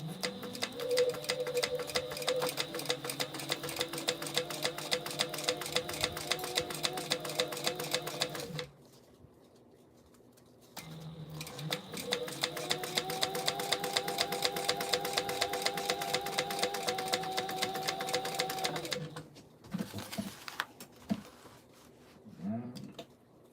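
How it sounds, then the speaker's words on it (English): A sewing machine stitches a craft item in two long, steady runs of rapid whirring and needle clatter, separated by a short pause, close and loud, then a few brief handling bumps at the end, no talk. "let's stitch this baby up and see how she looks."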